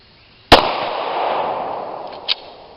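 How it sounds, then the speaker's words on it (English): A Glock 35 pistol fires .40 S&W rounds outdoors: one sharp, loud report with a long rolling echo, then a fainter distant pop about two seconds later. "we're going to let off a few 40s"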